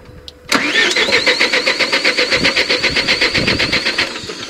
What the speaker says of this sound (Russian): Ну, стартер, конечно, крутит.